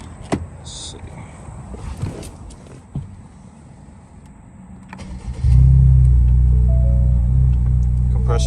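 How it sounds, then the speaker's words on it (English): A car fitted with Air Lift 3P air suspension cranks and fires up, settling into a loud, steady idle rumble after a few seconds of quiet clicks and faint shuffling. "Gonna go ahead and fire the car up and make sure everything holds."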